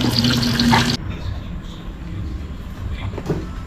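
Running water from an evening shower, a broad steady hiss that is loud for the first second, then drops to a softer, uneven wash with faint clatter, no voices.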